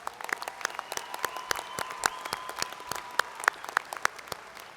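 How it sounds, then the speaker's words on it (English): An audience at a university commencement ceremony applauds its honors candidates, with steady scattered clapping over a sustained musical tone. "Please join me in applauding these honors candidates."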